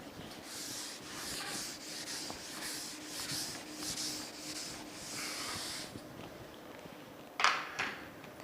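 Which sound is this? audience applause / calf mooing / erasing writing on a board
erasing writing on a board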